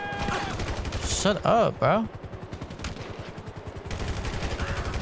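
Gunfire in GTA 5 crackles in rapid bursts amid swooping in-game effects, fairly close and loud, while someone talks over the shooting.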